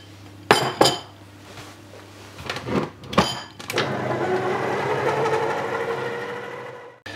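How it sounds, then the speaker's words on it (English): Dates are dropped into sticky toffee pudding batter with a few sharp clinks of a utensil against a bowl, followed by a sustained, close, whirring mixing sound that fades out near the end. "we're just going to drop the dates into the mixture and then give it a good stir to mix those dates into the batter of the pudding"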